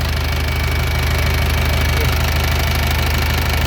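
A used six-wheel truck's engine runs steadily at idle, a continuous low rumble with a faint knocking texture, close and unbroken throughout.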